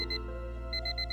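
An alarm clock rings inside a video game, a steady electronic beeping in short repeated bursts, with a pause in the middle before the pattern resumes, heard alone without talk.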